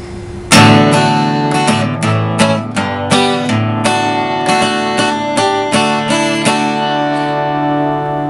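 An acoustic guitar strums a chorus pattern in a steady rhythm of down and up strokes, close and clear, ringing out with no voice.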